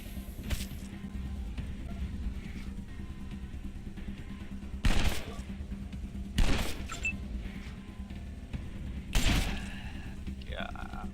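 Gunfire in the post-apocalyptic turn-based game Wasteland 2, heard as three or four sharp, separated shots standing out over a quiet background ambience.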